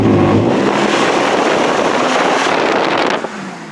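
Straight-pipe exhaust of a 194,000-mile Chrysler Town and Country with the 3.3 engine gives a loud, close, raspy roar with some wind buffeting, then drops off sharply near the end.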